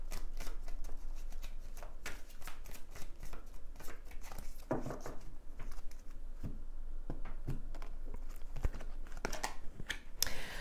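Energy cards shuffled for a tarot-style reading, a steady run of close, crisp riffling and flicking clicks that keeps going with brief pauses, with no voice.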